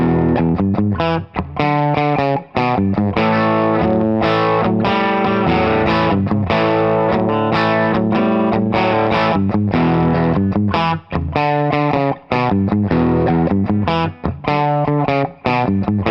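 An Epiphone Les Paul Studio electric guitar plays through heavy distortion, sustaining thick chords and riffs almost continuously with only brief gaps. It is loud and close, with no voice.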